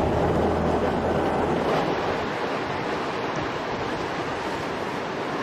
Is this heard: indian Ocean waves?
yes